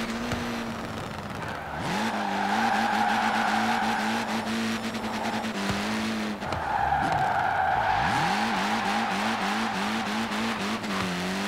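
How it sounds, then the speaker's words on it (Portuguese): A car drifts in Forza Horizon 4, its engine droning steadily while tires squeal in long rising and falling sweeps through repeated slides, loud and close with no talking. "Tentar fazer o máximo de drift que a gente conseguir."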